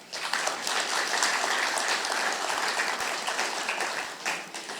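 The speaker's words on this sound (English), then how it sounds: "Another round of applause," Audience applause at the official launch of CHOGM 2026, a full, sustained round of clapping from a large gathering that stays steady and fairly loud before easing slightly near the end.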